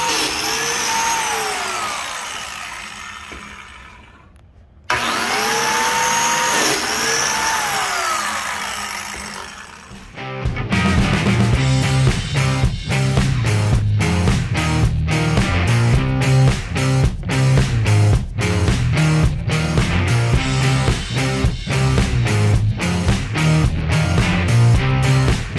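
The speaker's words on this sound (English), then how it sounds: "we're actually going to be cutting out the biscuit holes right here" A power tool brought to full RPM and plunged to cut biscuit holes in an epoxy countertop. Rising and falling whirring sweeps give way to a loud, sustained grinding roar pulsing with rapid rhythmic bursts.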